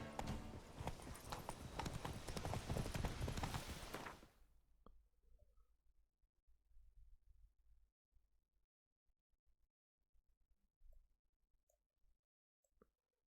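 Roach, Geralt's horse in The Witcher 3: Wild Hunt, clip-clops at a steady trotting rhythm for about four seconds, loud and close, then the hoofbeats stop and only faint scattered taps and quiet room noise remain.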